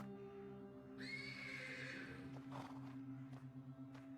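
A horse in a video game's stables lets out a drawn-out whinny, loud and close, over a low steady background hum, followed by a few soft shuffling knocks.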